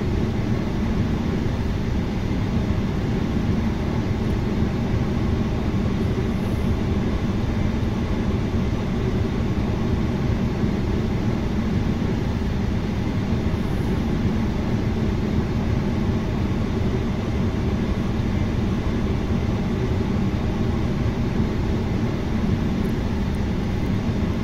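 A Jetstar Asia airliner, flight 683 out of Singapore, takes off from runway 02 left, heard from inside the cabin as a steady, loud engine roar that holds unbroken throughout.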